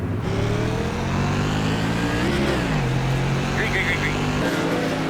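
Modified race car engine in the iRacing sim launching off the start at Myrtle Beach, loud sustained revving with rising and shifting pitch throughout, someone talking over it.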